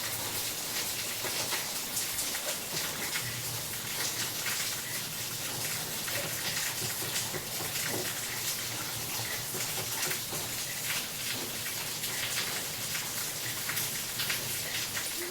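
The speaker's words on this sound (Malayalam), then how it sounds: "തേങ്ങയൊക്കെ ഒന്ന് തിളച്ച് വേണം നന്നായിട്ട് തിളക്കട്ടെ" A pot of Kerala-style coconut fish curry made with natholi anchovies boils uncovered, giving a steady, dense bubbling hiss that runs evenly throughout without pause and without any voices.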